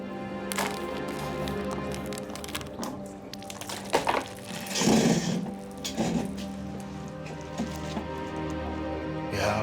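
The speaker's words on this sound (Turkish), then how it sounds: "Evet, yağmur başladı." Rain begins falling outdoors, a steady patter of drops on surfaces with a few sharp cracks, continuous and moderately close throughout.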